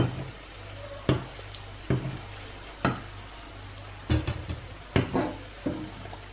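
Seeni ariyatharam, sweet fried dough, bubbling in hot oil with a steady hiss, broken by several sharp clinks and scrapes of a utensil against the pan, fairly close and with no talk.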